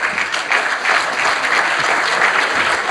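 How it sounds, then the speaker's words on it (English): A crowd applauds loudly and steadily throughout at a youth parliament commemoration event, the dense clapping filling the room without a break. "There's a round of applause."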